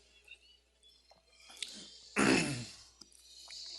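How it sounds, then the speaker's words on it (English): A single brief cough or throat clearing, close and moderately loud, after a few faint small noises over a quiet background. "I'm having a sympathetic cough."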